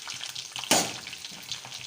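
Onions sizzle and fry in a pan, a steady close crackle with a sudden louder hiss burst midway as they are stirred or added.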